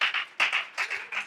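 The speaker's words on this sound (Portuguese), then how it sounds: "Vamos aplaudir a irmã pelo café que ela fez." A small church audience claps in short uneven bursts, close and fairly loud, applauding a sister for the coffee she made.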